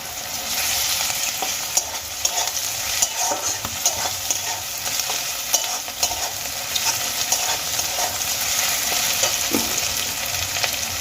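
Peas and onion fry in a pan with grated ginger, making a continuous close sizzle with frequent spatula stirring clicks and scrapes.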